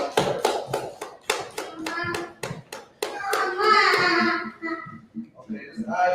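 A small group claps in a quick, uneven burst of about a dozen sharp claps at a class gathering, thinning out as voices and chatter take over beneath.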